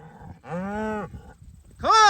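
Cattle low in two long, drawn-out moos with strong harmonic tone while being herded on a farm in Upstate New York, the calls fairly close and separated by a pause.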